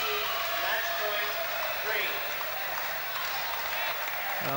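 An arena crowd at a badminton match in Jakarta applauds loudly and continuously, dense clapping and cheering throughout while a commentator talks over it.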